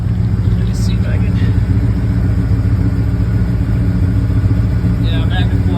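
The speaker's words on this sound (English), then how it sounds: "yeah, magnet flow, and it sounds nice. Nice deep sound to it." A 1986 Ford truck idles with a Magnaflow exhaust, giving a steady, deep, close-up rumble throughout. Faint brief voices sound in the background.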